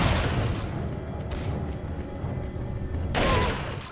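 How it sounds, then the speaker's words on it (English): Incendiary grenades bursting in the Resident Evil 4 video game: a loud rumbling blast at the start, sustained fiery roar, and a second sharp burst near the end, with no talking. "using all those incendiaries."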